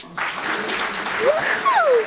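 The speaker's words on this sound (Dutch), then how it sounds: "En we willen vast een daverend applaus voor de Rode Lopers" Studio audience applause for the Rode Lopers on a Dutch television show, a steady wash of clapping that swells from a quiet start and holds at a lively level, with whistles and cheers rising above it.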